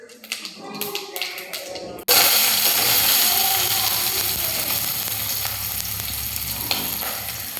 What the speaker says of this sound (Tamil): ஆனியன் ஆட் பண்ணி நல்லா வதக்கி விட்டுக்கோங்க.